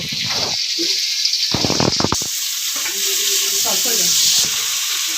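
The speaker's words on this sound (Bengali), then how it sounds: "এভাবে সবগুলো মাছ ভেজে নেব।" Prawns sizzle steadily in hot oil in a pan for a prawn curry, with a few bursts of clattering stirring in the middle and no one talking.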